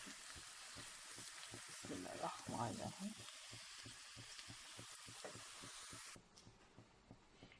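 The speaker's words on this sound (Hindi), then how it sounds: "बस इतना सा हमने इस तरीके से इसको थोड़ा सा फ्राई करना है" Onions frying in cooking oil in a pot give a steady broadband sizzle, briefly louder with stirring, until the sizzle drops off sharply near the end.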